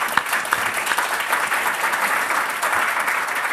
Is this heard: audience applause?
yes